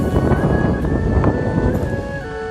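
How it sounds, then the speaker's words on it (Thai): Strong wind gusting across ancient temple ruins, buffeting the microphone with a rough, steady roar and rumble, loud and close, with a faint tonal whine running through it and no voices. "ที่ได้ยินแรงๆนี่คือซ่าๆนี่คือเสียงลมนะครับลมแรงมากตอนนี้"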